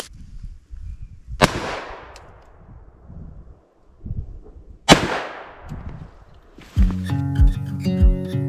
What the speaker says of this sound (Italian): sparo un paio di colpi